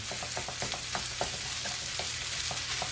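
Egg fried rice with beef and onion stir-fried in a wok, a steady loud sizzle broken by quick scraping and tapping strokes as the rice chunks are broken up and tossed.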